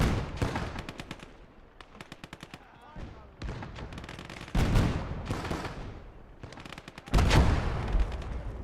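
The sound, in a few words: sniper rifle fire in Call to Arms - Gates of Hell video game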